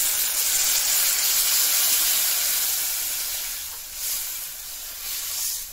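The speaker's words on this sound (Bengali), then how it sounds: "তো অল্প পরিমাণে দিয়ে দিচ্ছি জল।" Water poured into a hot pan of potatoes and okra sets off a steady, loud steaming hiss and sizzle that runs throughout, fading slightly midway and then swelling again, with no talking.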